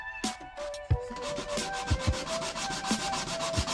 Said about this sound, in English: my preferential way to do this is wet sanding